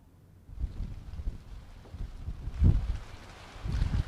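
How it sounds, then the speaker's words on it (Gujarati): Strong wind gusting during a monsoon rainstorm in Ahmedabad, Gujarat, a rough low roar buffeting the microphone that swells at about the half-second mark and peaks in a heavy gust later on. "અમદાવાદમાં ભારે પવન સાથે વરસાદની શરૂઆત થઈ છે"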